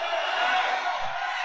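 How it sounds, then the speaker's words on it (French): A crowd roars and shouts with joy in one dense, loud, continuous burst, close and full, without any clear single voice standing out. "Pousse des cris de joie."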